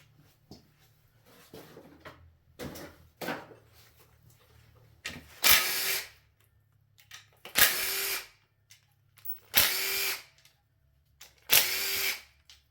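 DeWalt cordless impact gun removing engine oil pan bolts on a 5.3 engine, four loud close bursts of rattling hammering, each about a second long and spaced evenly apart, with light clicks and handling noises between them.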